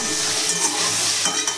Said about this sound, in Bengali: ফুলকপিগুলো ভালো করে ভেজে নিচ্ছি